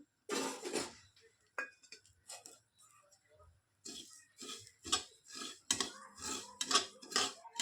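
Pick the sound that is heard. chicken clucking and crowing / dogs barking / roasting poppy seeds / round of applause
roasting poppy seeds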